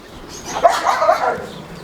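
A dog gives a short, close whimpering yelp, a single brief vocal burst.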